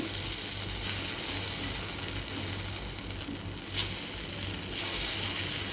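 Egg vegetable paniyaram frying in a pan, a steady soft sizzle holding throughout with a faint low hum beneath, no voices.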